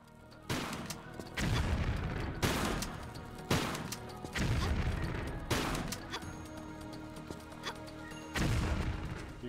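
Excalibur sword blasts in a Tomb Raider custom level, roughly six heavy shotgun-like booms spaced about every one to two seconds, each with a crashing decay, loud against a quiet ambient game background.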